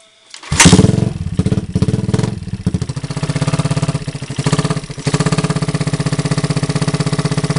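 A motorcycle engine, just repaired after a loose flywheel bolt, fires up about half a second in and settles into a steady, close idle with a rhythmic clattering beat and brief dips in revs.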